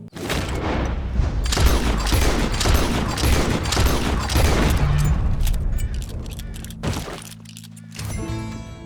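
Gunfire in Red Dead Redemption 2, a rapid, loud run of booming shots and cracks with heavy rumble, easing off toward the end.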